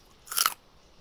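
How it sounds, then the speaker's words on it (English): A person chewing on a chewy, gum-like treat: one short burst of wet, crunchy biting and mastication lasting about a quarter second, fairly close and alone against a quiet background. "He started to chew on something."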